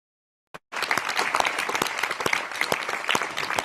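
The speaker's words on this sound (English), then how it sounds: "they instead watch the applause the European Parliament gives to Julian Assange" Applause in the European Parliament for Julian Assange, a dense, sustained clapping from a large chamber crowd that breaks in after a brief silence and carries on steadily, loud and close.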